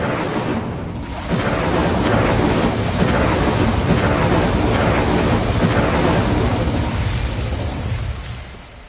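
An Incendio fire spell bursts in Hogwarts Legacy, a loud, sustained roaring blast that swells within the first second or so, holds dense and fiery for several seconds, then fades away at the end, with no talk over it.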